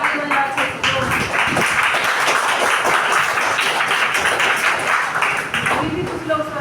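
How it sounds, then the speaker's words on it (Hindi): A classroom group of schoolchildren claps their hands together, many rapid overlapping claps forming a loud steady wash with some sharper near claps, while voices murmur underneath. "चलो सब लोग पहले ताली बजाओ अच्छे से"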